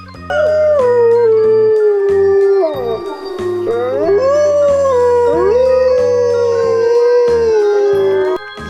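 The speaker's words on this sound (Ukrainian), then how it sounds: "Полярний вовк." A polar wolf gives a long, sustained howl with rising and falling pitch, loud and close, accompanied by a deep musical backing and no speech.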